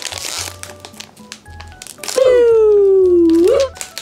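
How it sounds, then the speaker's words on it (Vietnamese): A foil-lined plastic packet holding a mystery toy is crinkled and torn open up close, with a burst of rustling followed by a long, loud sustained squeal-like crackle. "Bây giờ tôi sẽ thử bóc nó ra nhá."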